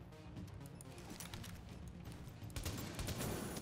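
Gunfire in the video game Tom Clancy's The Division comes as a faint, steady crackle of distant shots and impacts. It builds slightly toward the end, with no voices over it.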